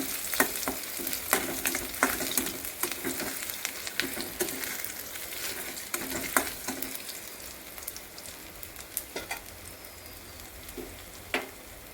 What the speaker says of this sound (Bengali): সেই মাছের তেলটা আছে, ওই তেলে রসুন ফোড়ন দিয়ে দেবো। রসুনগুলো একটু থেতো করে নিয়েছি, এবার দিয়ে দেবো। একটু ভালো করে লাল লাল করে ভেজে নেব।